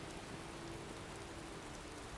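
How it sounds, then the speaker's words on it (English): Rain pours in Skyrim as a constant, faint wash of drops hitting the ground, unchanging throughout and heard alone. "Some kind of spell to cover the rains, or maybe make the skies clearer?"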